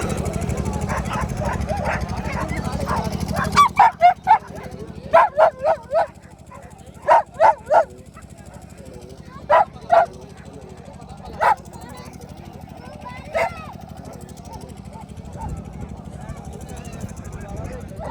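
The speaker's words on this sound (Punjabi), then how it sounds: "ਤੇਰੇ ਕੁੱਤੇ ਬੜੇ ਆ" Hunting dogs at a dog show bark in short clustered bursts, several sharp yelps at a time, over a constant rumbling background, with people talking throughout.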